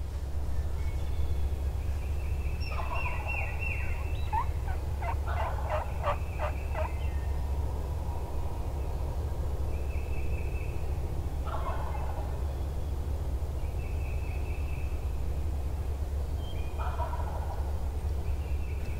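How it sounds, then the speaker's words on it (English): A wild turkey gobbling in spring turkey-hunting woods, several loud rattling gobbles repeating every few seconds at moderate distance over a steady low rumble of wind or background noise. "this bird gobbled like once every 5 seconds for what felt like an hour straight"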